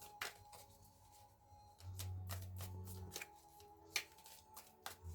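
Playing cards shuffled by hand for a card reading, a run of quick riffling, flicking and tapping bursts close up, with a few sharper snaps toward the end.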